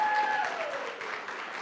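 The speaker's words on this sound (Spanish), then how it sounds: "Den un aplauso al Señor." A church congregation claps together during a sermon, producing a brief, steady wash of applause that fills the room.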